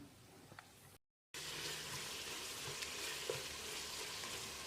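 Dried red chili paste sautés in a pan for Ambur mutton biryani: a dense, even sizzle with light stirring after a quieter, brief opening, no voices.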